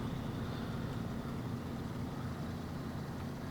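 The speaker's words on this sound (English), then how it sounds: "you could hear the engine working hard" A truck engine strains uphill in the SnowRunner video game, a steady low drone held at constant load throughout with no speech.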